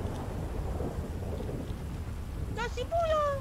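Steady rain falls in a video game, a soft continuous hiss with a low rumble beneath, joined near the end by brief tonal game sounds.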